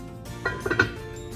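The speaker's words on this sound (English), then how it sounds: "Now we're just going to put the lid back on and continue to let it cook." A metal lid set back onto a pot of simmering birria chili sauce, giving two or three quick clinks and a light rattle against a quiet kitchen background.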